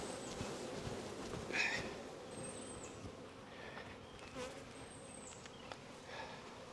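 Honey bees buzz around hive frames during a honey harvest, a continuous close hum of many insects with individual bees droning past now and then.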